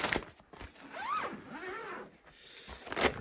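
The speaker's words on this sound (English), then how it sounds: "We'll unzip this real quick. Find the zipper." A zipper on a cooler bag being pulled open in short strokes, close by, with faint rustling of fabric around it.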